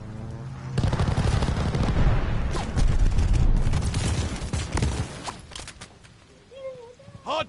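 Heavy, sustained gunfire and booming impacts from a hostile strafe run in Call of Duty Vanguard multiplayer, loud and dense for several seconds before thinning out, with brief game voice lines mixed in.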